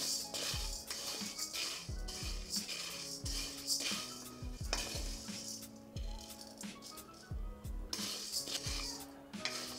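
Ingredients being dry roasted in a pan for a traditional health-mix powder and stirred with a utensil, giving steady scraping, rattling and clinking of grains against the metal pan, close and continuous, with no talking.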